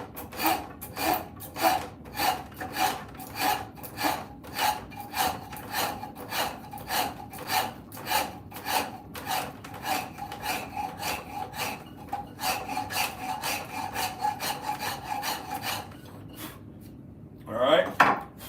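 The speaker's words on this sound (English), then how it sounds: "With this rounded Nicholson rasp, I can get in the corners." A half-round Nicholson rasp files a white oak burl workpiece, giving steady, close scraping strokes in a brisk repeating rhythm, with a short louder scrape near the end.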